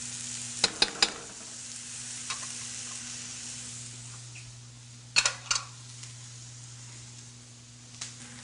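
Vegetables for paella sauté slowly in a pan at medium heat, giving a soft, steady sizzle broken by a few sharp clinks of a utensil against the pan.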